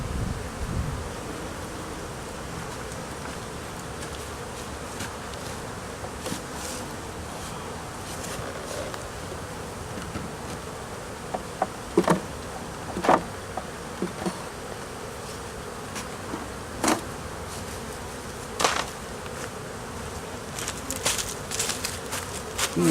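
Honey bees buzz continuously around a relocated hive, a dense close drone with occasional sharper bursts as individual bees pass near, plus faint scattered rustles and clicks.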